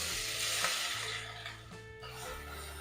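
Whole spices, cinnamon, cloves, cardamom and bay leaf, fry with a ground paste in oil in a pressure cooker, giving a steady close sizzle throughout with no talking.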